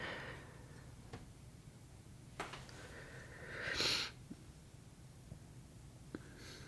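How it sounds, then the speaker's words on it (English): Quiet, close sniffling and breathing from a person sitting at a tea leaf reading: soft scattered sniffs and one longer breathy snort in a hushed room. "I'm sorry for my sniffling and my breathing"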